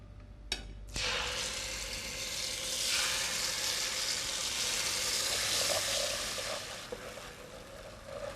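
Onion paste, boiled and ground, cooks in a pan with a loud, steady sizzle that starts abruptly after a brief clatter and continues evenly throughout, close and without talk.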